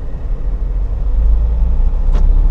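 Nissan Terrano running with its instrument cluster removed, a steady low engine and road rumble heard from inside the cabin, loud and continuous, with one brief higher click near the end.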